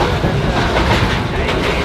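A crowded passenger train rolls along the rails in Sri Lanka, a steady loud rumble with rhythmic clatter filling the whole stretch, heard close from inside the carriage.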